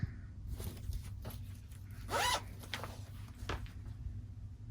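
A project bag's zipper pulled in one quick, raspy stroke, close by, over a low steady background hum with a few faint clicks around it.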